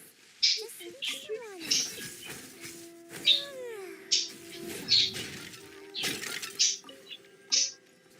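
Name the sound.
bird making noise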